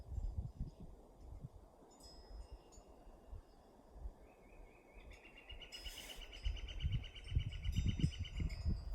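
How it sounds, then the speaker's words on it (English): Outdoors among faint insect hum and rustling, a northern flicker gives a rapid, evenly spaced run of loud repeated calls partway through. "And that's a northern flicker, that sound."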